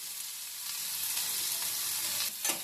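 Ingredients for a pasta soup sizzle in a little oil in a pan after salt is added, with a steady hiss of frying and a soft scrape of stirring near the end.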